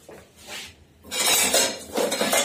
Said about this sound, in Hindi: मैं दूध एक पैन गरम कर लूँगा